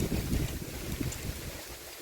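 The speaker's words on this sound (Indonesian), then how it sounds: "angin bertiup sangat kencang" Strong wind gusts buffeting the microphone outdoors under cloudy skies, a steady broadband roar with low rumbling pulses throughout, loud and close, with no talking.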